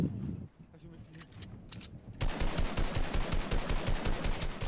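Rapid bursts of video game gunfire, first sparse and muffled, then a loud continuous automatic volley with a rhythmic rattling beat.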